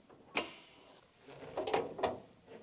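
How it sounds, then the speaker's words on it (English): The hood of a 1999 Honda Civic EK is opened, giving a quiet metallic click from the latch, then soft thumps and rattles as it lifts, all faint and close in a quiet garage. "Open the hood."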